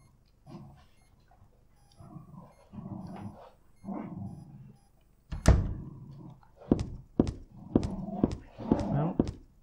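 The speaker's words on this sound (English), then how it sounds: "My dogs are having a tug of war going on." Dogs playing tug of war nearby, with thumps, scuffles and short growly bursts coming in quick uneven clusters, loud and close after a quieter stretch of muffled activity.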